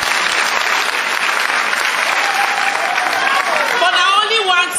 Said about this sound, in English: clap for this woman.